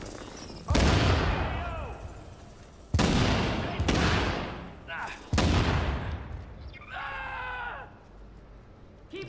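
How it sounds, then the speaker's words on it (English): Gunfire in Tom Clancy's The Division: several sharp, loud shots spaced apart, each with a decaying echo tail, with a voice heard among them. "There's another firing"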